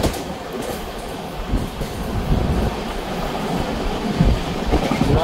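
Inside a passenger train on the Pune to Dadar, Mumbai route, a continuous loud rumble of running wheels and carriage noise carries faint rhythmic clatter over the rails, with no talking.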